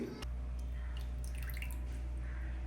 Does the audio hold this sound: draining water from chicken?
yes